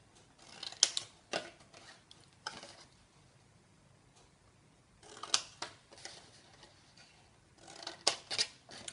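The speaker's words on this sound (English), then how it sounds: "If you can try and cut the same amount off each one." Scissors snipping through card while making a Santa Claus gift box, in short clusters of crisp cuts separated by quiet gaps, close and fairly soft with no talking.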